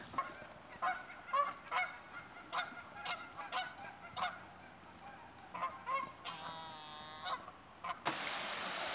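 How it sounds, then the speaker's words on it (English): Canada geese standing on ice near Alaskan hot springs give repeated honks, a steady series of separate calls at moderate distance over quiet outdoor background. "I got some honkers over there standing on the ice."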